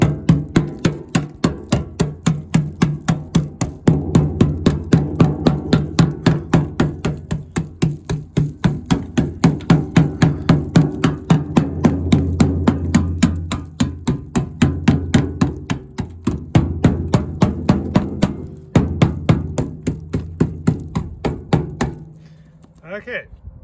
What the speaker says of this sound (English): I'll give it a couple of whacks here and we'll see what's going on here.